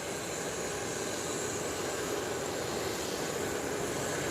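A small airplane lands on a short airstrip, its engine giving a steady, broadband roar that stays loud and constant throughout, with no talking.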